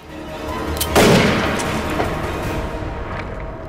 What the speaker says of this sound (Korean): 발사되어 버린 총알.